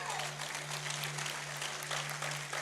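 A church congregation claps during a sermon, a steady broadband patter of many hands held at an even level throughout, with a low sustained hum running underneath and no voices standing out.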